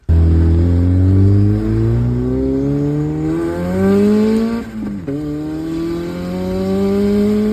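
Boosted Honda B20B4 engine car pulling down the road, loud and close, its engine note rising through the gears in long climbing sweeps with a brief dip around a shift, no voices.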